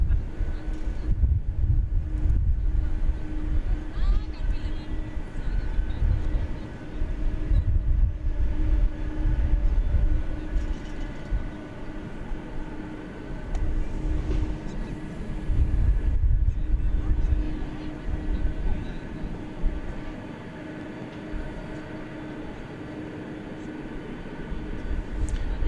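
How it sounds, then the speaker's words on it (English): A Boeing 747 arriving at DFW Airport, caught on a smartphone: a steady, loud low-pitched jet roar rumbling throughout with slight swells, wind-buffeted and continuous, no distinct events. "back the arrival of this plane that I recorded on my smartphone before we set any of this equipment up"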